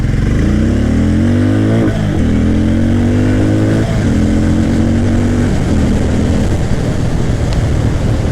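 A Hero Mavrick 440 motorcycle accelerates hard on private ground, its engine note climbing loud and close through several rising sweeps with brief dips at each gear change, then holding a strong steady drone.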